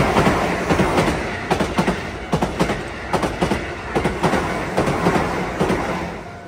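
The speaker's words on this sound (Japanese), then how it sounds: "あ、京阪電車、京阪電車。" A Keihan electric train rolls past nearby in Neyagawa, Japan, its wheels beating a steady clickety-clack over the rail joints beneath a loud rumbling roar.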